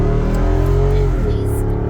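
A Jeep Wrangler 392 V8 accelerating, its deep exhaust note rumbling loud and steady from inside the vehicle as the pitch climbs and settles, with voices talking over it.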